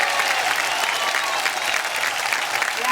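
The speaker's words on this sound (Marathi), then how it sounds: "एकदा जोरदार टाळ्या होऊन जाऊ दे." Audience applause from a televised women's game show, a dense, sustained burst of clapping from a sizeable crowd lasting the whole moment, fairly loud and even without clear breaks.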